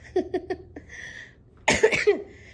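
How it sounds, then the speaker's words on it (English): A few short throat sounds lead into a burst of harsh, close coughs near the end, loud and abrupt. "I'm still coughing stuff up"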